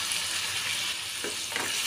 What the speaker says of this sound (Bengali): জিরের গুঁড়োটা দেওয়ার পরে আর একটু কষিয়ে নেব